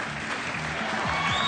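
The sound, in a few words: audience applause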